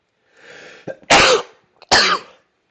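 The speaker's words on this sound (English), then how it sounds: "I'm about to sneeze, excuse me." A person sneezes twice in close succession, each burst loud and sharp after a brief intake of breath, with nothing else around it.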